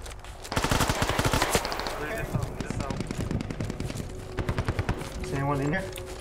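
Rapid automatic gunfire crackles through a combat video game in dense, repeated bursts, fairly loud and close, with voices talking over the shooting.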